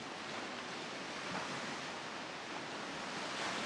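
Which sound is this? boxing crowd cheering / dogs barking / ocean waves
ocean waves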